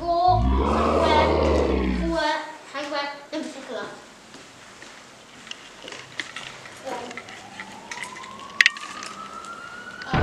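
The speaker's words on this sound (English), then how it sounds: "Did I just hear a roar somewhere?" Loud roaring growl from a giant movie monster, Godzilla, opens the sequence, then gives way to scattered crashes, clatter and a rising whine, with voices talking briefly in the background.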